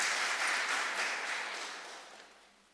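Audience applause for a presenter at a rural development and bioeconomy conference, a soft wash of clapping that starts fairly full and gradually fades away over a few seconds.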